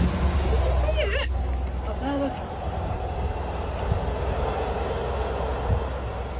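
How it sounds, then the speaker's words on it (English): A train passing at a moderate distance, with a steady low rumble of wheels and rail noise throughout. People talk over it, including a short high squeal or vocal sound early on. "Can you see the train?"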